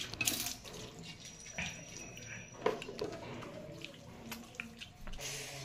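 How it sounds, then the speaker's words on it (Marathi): Tap water running into a sink while a face is washed, with splashing and sharp bursts of water at the start and end and steady trickling between, close and moderately quiet, no talk. "चेहरा वगैरे छान आता धुवून घ्यायचा आहे."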